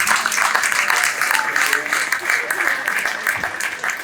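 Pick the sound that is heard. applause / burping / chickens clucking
applause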